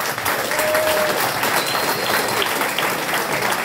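Crowd at a submission grappling event applauding after a match, steady dense clapping throughout at close range with no voices standing out.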